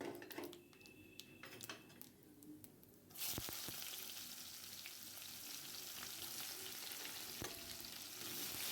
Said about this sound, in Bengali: তারপরে হচ্ছে পেঁয়াজও এর মধ্যে দিয়ে হালকা করে ভেজে নেব।